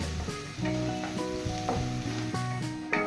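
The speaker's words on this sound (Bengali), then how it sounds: "এবার পেঁয়াজটাকে ব্রাউন করে ভেজে নেব।" Finely chopped medium onion frying in oil until brown, a steady close sizzle running throughout under clear tonal background music.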